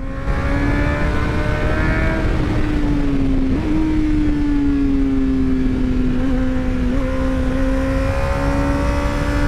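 A 2011 Honda CBR 600 F motorcycle engine hums loud and close with a steady, slightly wavering drone while riding along a bumpy road.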